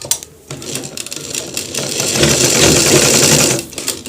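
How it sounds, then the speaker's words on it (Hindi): A sewing machine stitches along a pant seam, its fast motor whir building into a loud, steady stitching run after a brief start, with no talking over it. "तो इसको इस तरीके से इसके ऊपर सिलाई लगाना है"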